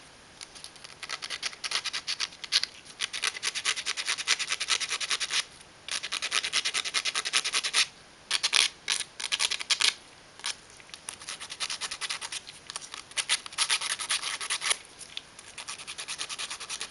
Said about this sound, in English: chamfer these two edges with our sandpaper